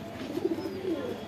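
A pigeon cooing close by, giving one soft, low, rolling coo call that lasts about a second, alone with no talking.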